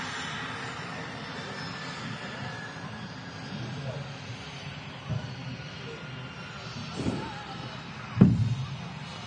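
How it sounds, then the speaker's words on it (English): A Turkish Airlines Airbus A330-300 at Manchester Airport gives a distant, steady jet roar that rumbles throughout, with a few short thumps near the end. "Airbus A330-300 creeping through now in terms of visibility."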